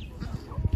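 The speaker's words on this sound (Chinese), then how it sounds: "然后在我身后这里有一群这种鸡啊" A flock of chickens nearby clucks in a few soft, low, quick bursts.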